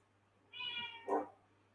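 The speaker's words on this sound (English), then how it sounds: "Now the cat is just woken up." A cat that has just woken gives a short two-part meow, a clear tonal cry rising into a louder second note, fairly close against a quiet room hum.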